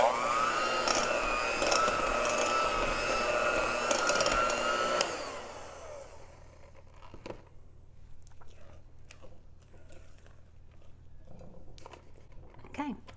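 An electric hand mixer with beaters whirs steadily through cake batter for about five seconds, then cuts off, leaving faint clinks and handling noises.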